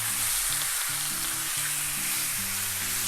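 Pork belly sizzles loudly on a grill over medium heat, a dense steady hiss that stays constant from start to finish, with no talking.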